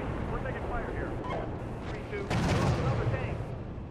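Gunfire and artillery blasts in a tank battle video game, a dense continuous rumble of shots and explosions with a heavier burst midway, mixed under talking voices.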